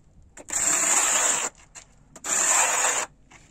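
A trowel spreads tile adhesive in two long, even strokes, each a close, loud gritty scraping rasp lasting about a second, separated by a brief pause.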